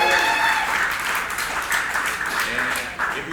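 A live crowd cheers and applauds loudly and steadily throughout, with shouted voices mixed into the clapping.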